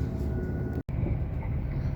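Steady low rumble and rattle inside a moving passenger train, a constant close drone with one momentary cut in the middle, no talking.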